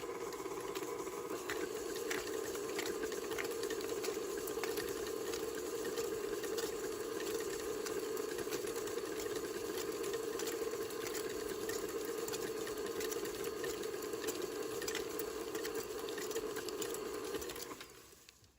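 An electric stand mixer beats cookie dough with a steady, even motor whir and hum. The sound runs unbroken for about eighteen seconds at moderate level, then cuts off at the end with no voices.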